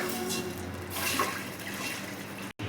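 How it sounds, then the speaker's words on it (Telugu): Water is poured into a cooking pot of masala, a short soft splashing pour under steady kitchen background noise, ending with a brief cut. "దీంట్లో వాటర్ పోయాలి"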